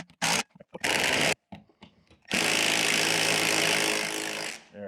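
A Milwaukee M12 compact impact driver sinks a long lag screw through a bracket into a wood stud. The near, loud rattling hammer comes in short bursts, then in one sustained run of about two and a half seconds until it stops.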